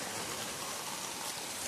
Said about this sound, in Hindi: ज़बरदस्त बारिश है, कितना अंधेरा है चारों तरफ